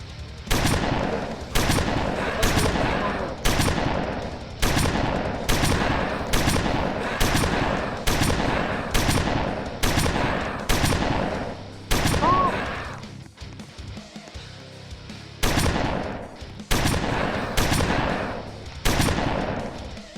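Shotgun blasts from a Roblox shooting game fire in a steady rapid series of loud, sharp bangs, repeating about every half second with a brief quieter gap partway through before resuming.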